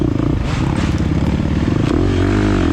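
A 2023 KTM 350 dirt bike engine revving hard during a scramble race at Lake Sugar Tree, loud and close with a rising, pulsing drone, rattling clatter and gear-driven pitch shifts.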